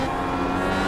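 An IR18 IndyCar engine in iRacing at Barber Motorsports Park roars loud and steady under acceleration, a dense, continuous high-revving drone heard close with no talk.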